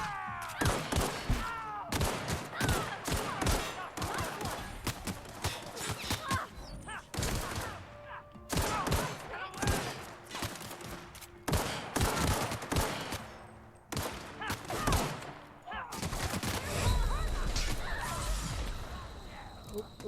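Rapid bursts of light machine gun fire in The Outer Worlds, loud sustained volleys repeating throughout with thuds, whooshes and some speech mixed in.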